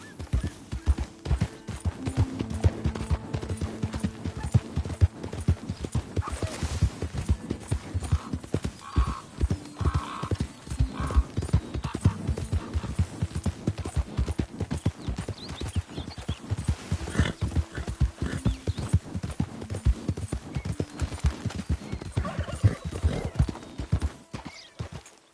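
Horse hooves clip-clop in a steady galloping rhythm in Red Dead Redemption 2, close and continuous throughout, with a whinny now and then and a faint low hum beneath.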